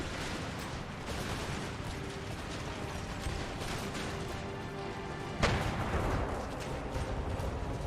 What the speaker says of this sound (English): Canister shots can start firing now.